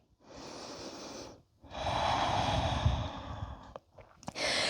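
Long breathy exhales during a core-focused yoga session, two sustained airy breaths with a short pause between them and a quieter gap before a final breath starts, close and soft.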